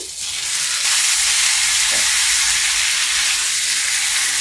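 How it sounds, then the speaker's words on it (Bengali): Previously fried mixed vegetables land in a hot pan with mustard paste, raising a loud, steady sizzle and hiss that carries on without a break and with no voices. "এরপরে আমি দিয়ে দেব সেই ভেজে রাখা সবজি।"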